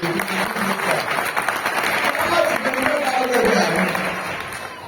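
Applause from an audience at a spiritual awakening convention in Aamkhut, with sustained dense clapping and some crowd voices mixed in, steady and fairly loud throughout.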